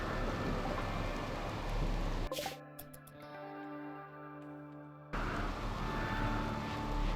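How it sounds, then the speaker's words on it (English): Steady rain hisses from the RimWorld colony-sim, a dense broadband wash that cuts out abruptly for a few seconds of music-like tones before the downpour returns, with no talk. "It's really rainy."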